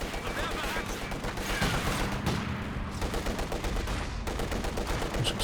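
Machine gun fire and scattered rifle shots in the real-time strategy video game Company of Heroes 2 form a busy, continuous battlefield clatter of overlapping bursts.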